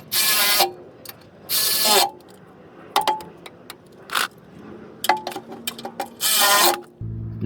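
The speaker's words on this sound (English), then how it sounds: "Then we go ahead and tighten up all the bolts." A ratchet clicks in several rapid bursts as bolts are tightened on a front skid plate of a 2023+ Toyota Sequoia TRD. The ratcheting is close and loud, with small metallic clinks between bursts.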